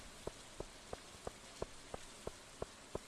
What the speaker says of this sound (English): Okay, so today's raining, tomorrow will rain.